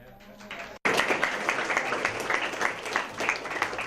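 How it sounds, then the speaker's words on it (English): An audience at a feedback program claps for themselves, with a full, loud burst of many hands starting abruptly after a brief spoken lead-in and continuing steadily. "And a clap for ourselves too."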